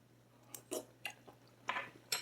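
Close, quiet chewing of a spoonful of Diablo sloppy joe, several soft wet bites and smacks in an uneven rhythm over a faint steady hum.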